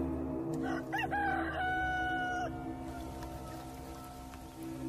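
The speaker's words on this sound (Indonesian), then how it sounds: "sayup-sayup suara ayam berkokok." A rooster crows once in the distance, faint and thin, over a steady hiss like light rain.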